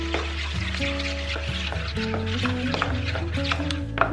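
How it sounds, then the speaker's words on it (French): Flour, water, yeast and salt are stirred with an ordinary spoon in a salad bowl for pizza dough, a soft steady scraping with light clinks against the bowl and a low background hum. "on va commencer à mélanger tranquillement la farine avec l'eau, la levure et le sel"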